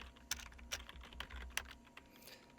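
Someone types at a computer keyboard into a Windows command prompt, a quick run of several distinct keystrokes with uneven rhythm, close and fairly quiet, with no voices.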